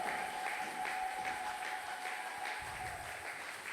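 A church congregation applauding for Jesus at a prayer service, a steady wash of clapping from many hands at moderate distance, with a sustained tone and faint voices underneath.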